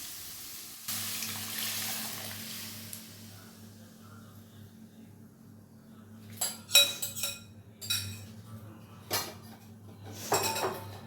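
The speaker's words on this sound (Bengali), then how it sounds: "এবার আগে থেকে সেদ্ধ করা ডালটা এর মধ্যে ঢেলে দেবো।" Pre-boiled urad dal poured into a pan, a soft wet sizzle followed by sharp clinks and scrapes of a metal bowl and utensil against the pan, with a low hum underneath and no talking.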